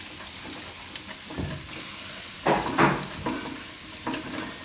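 Yogurt stirred a little at a time into a masala frying on low heat for dum aloo, soft sizzling and hissing punctuated by scraping stir strokes and small spoon taps.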